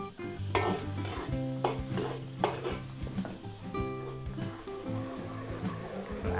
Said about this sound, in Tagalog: Luluto-lutuin lang po natin yung ating bawang.